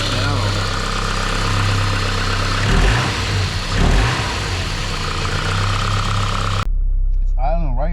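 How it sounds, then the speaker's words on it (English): Car engine idling steadily in a vehicle being checked for an acceleration fault tied to the throttle position sensor, a constant low hum with brief fluctuations midway, then cutting away to a quieter end with a voice. "It's idling right where it needs to be"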